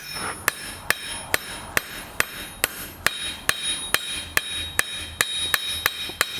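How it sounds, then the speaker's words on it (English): A blacksmith hammering a chamfer on the edge of an anvil, sharp ringing metal strikes at a steady, fairly quick pace, about fifteen blows, close and clear with no talking. "When you do a chamfer like this, it is easier to work on it on the edge of the anvil."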